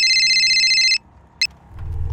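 A telephone rings with an incoming call in a shop, a loud electronic trill of about one second, followed by a short chirp and then low background noise.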